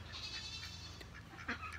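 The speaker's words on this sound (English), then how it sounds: "I've got goats pulling on my shirt." Goats on a homestead bleat through a steady, moderately loud stretch, with a sharper cry near the end and a faint background hum beneath them.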